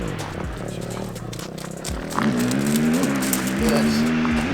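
Race car at Lucky 13 Raceway running on track while the clutch is tested, engine droning and rising in pitch through gear changes, moderately loud with faint background noise.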